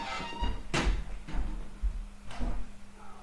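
A front door opens for a visitor at home, with a few knocking, rattling thumps and a short creak of the door, close by and fairly quiet, with no talking.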